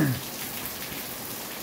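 Thunderstorm rain falls in a steady hiss of drops, fairly close, with a brief low sound at the very start before the downpour carries on evenly.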